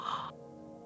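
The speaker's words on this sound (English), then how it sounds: "Take another deep breath in." A person takes a deep breath in, a short airy inhale lasting about a third of a second, close and clear, followed by quiet.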